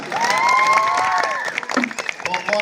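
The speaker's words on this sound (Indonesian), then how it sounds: "luar biasa tepuk tangan" An audience at a Balinese bondres comedy performance claps and cheers in a short burst, with shouts and voices mixed into the applause.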